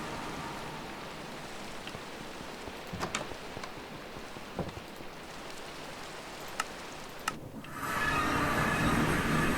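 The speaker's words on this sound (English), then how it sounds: "Frickin' hate rain." Rain falls in a video game as a steady, even hiss throughout, with a few faint ticks and clicks scattered over it, growing slightly brighter near the end.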